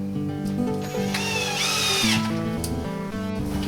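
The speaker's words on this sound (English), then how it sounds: "Make sure you don't drill through the door." A power drill runs continuously into a storm door during installation, its motor whining steadily with pitch rising and falling as the bit bites, close and fairly loud throughout.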